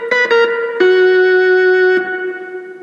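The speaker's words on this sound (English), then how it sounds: "Can you hear that beautiful reverb?" A vintage Philips Philicorda analogue organ plays a few short notes, then a sustained chord cut off sharply, leaving a spring reverb tail ringing and fading; loud, close, and without voices.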